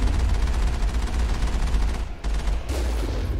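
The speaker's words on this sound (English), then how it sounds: "We blew another turret up from a distance" A turret destroyed from long range in Mass Effect, with dense rumbling gunfire and explosive noise filling the whole stretch, a brief dip and then a fresh burst near the end.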